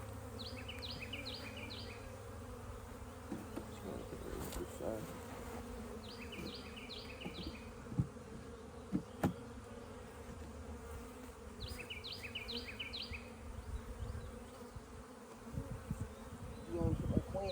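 A low, steady hum of bees buzzing around a nuc hive fills the scene, with occasional faint knocks and rustles nearby; no one speaks.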